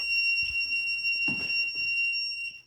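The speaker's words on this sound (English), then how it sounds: "this really annoying beep when you turn it on" A DeerRun 2-in-1 under-desk walking pad treadmill gives a steady, piercing electronic power-on beep that holds two bright tones for nearly three seconds before cutting off, loud and close.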